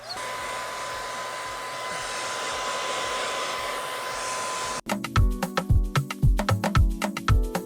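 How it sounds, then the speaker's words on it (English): A hair dryer on high heat blows over a frontal wig for nearly five seconds, a loud steady whir, then cuts off and gives way to a string of sharp clicks and knocks. "I'm going to go ahead and blow dry just so the melt process can like be faster. It's with a high heat."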